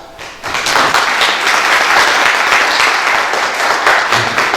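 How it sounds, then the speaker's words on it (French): A crowd at a political gathering of Ivorian community leaders in Italy breaks into loud applause after a brief quieter moment, then sustains dense, even clapping that stays strong and close throughout. "Ça, il faut les applaudir pour cela."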